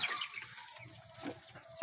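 Breeding hens on a backyard farm cluck softly and intermittently at close range, with faint bird calls over a quiet background.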